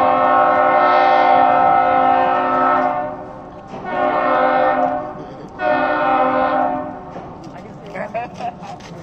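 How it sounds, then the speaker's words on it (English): Three long, loud blasts of a deep ship horn on the lake freighter Paul Tregurtha, each held for a couple of seconds with short pauses between, followed by brief distant clatter. "they honked his horn."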